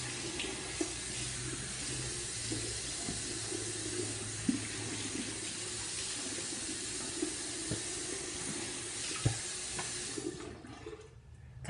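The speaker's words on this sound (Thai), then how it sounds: "เราจะล้างฟัน" Tap water running steadily into a bathroom sink while teeth are rinsed during brushing, a continuous close hiss with small splashes that cuts off near the end.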